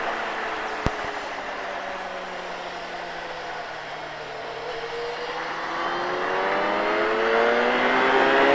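Motorcycle accelerating on a road run, engine tone climbing steadily and growing louder toward the end after a single sharp click early on, heard from on board with no talking.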